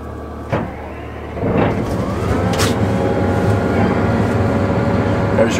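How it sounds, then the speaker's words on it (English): An AGCO Challenger MT875E tractor engine cranks and fires, settling into a loud, steady idle rumble that continues under the start, with a brief click or clunk beforehand. "Actually, we'll just start the tractor."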